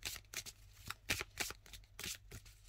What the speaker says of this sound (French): ce que je vous propose, c'est de mélanger le jeu